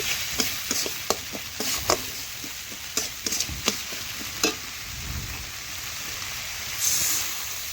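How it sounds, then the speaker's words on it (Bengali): Chicken with salt and spices is stirred in a pan, with a utensil scraping and knocking in irregular strokes over a soft, steady sizzle at close range. "লবণ ও নাড়াচাড়া করে মিশিয়ে নিচ্ছি।"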